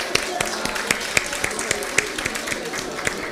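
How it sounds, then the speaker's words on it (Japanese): Church congregation at a Sunday service clapping for Jesus: distinct hand claps in a loose, fairly regular rhythm over a murmur of voices, moderately close. "最後にイエス様に拍手を送りましょう"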